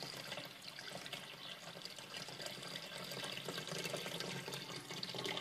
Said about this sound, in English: Slowly adding water until you get to where you should be.